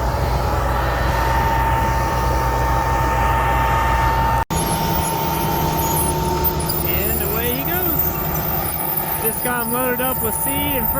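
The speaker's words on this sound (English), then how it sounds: "I always think it's so cool back here with the vacuum. It sounds like a jet engine." A corn planter's seed vacuum fan roars loud and steady like a jet engine, a dense continuous rush with a brief cut partway through and faint voices over the later part.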